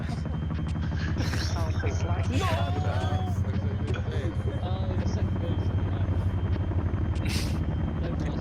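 A Venom helicopter in the Arma 3 video game hovers nearby with a loud, constant rotor thump and engine drone, while voices talk over it the whole time.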